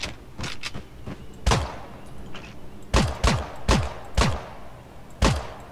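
Gunfire in the battle royale video game Creative Destruction: a rapid string of sharp, loud shots in uneven bursts, several quick pairs and single cracks with booming low tails, heard alone without talk.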